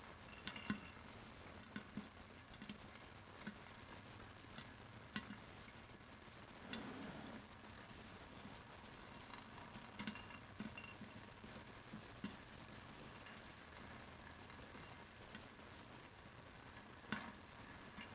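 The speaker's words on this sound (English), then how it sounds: "More popping. I hear it." Popcorn kernels popping in a pot: scattered, sharp pops at irregular intervals over a faint sizzling background, fairly quiet and close, with no talk.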